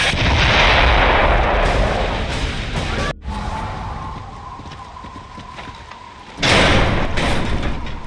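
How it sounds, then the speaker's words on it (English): Mortar fire and explosions in a Gears of War: Judgment cutscene, loud heavy blasts and rumbling impacts with a sharp cut, a quieter stretch, then another loud burst of battle noise. "Mortars! The grubs are gonna flatten that house if we don't stop them."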